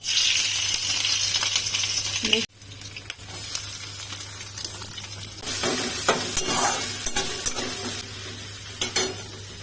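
Cumin seeds and cloves sizzle steadily in hot oil in a kadhai, a continuous bright crackle with a sharp clatter and brief drop near the start, then stirring scrapes and spits over the frying.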